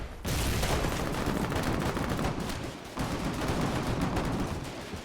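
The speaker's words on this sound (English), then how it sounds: "Stop shooting." Dense, continuous gunfire from a Foxhole frontline battle, a steady crackle of rapid shots that barely lets up, with a brief dip before the barrage resumes loudly.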